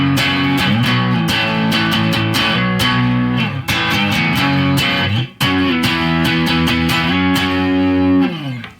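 Electric guitar played through a Boss DS-1 distortion pedal with the distortion knob at noon, loud sustained distorted chords with repeated strummed attacks and brief pauses.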